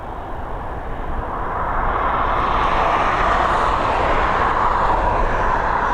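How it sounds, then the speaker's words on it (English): An Embraer E190 jet at Dublin Airport roars steadily, its broadband engine noise swelling over the first two seconds and then holding loud and close. "now we've got the Embraer E190, it's the long range version of this"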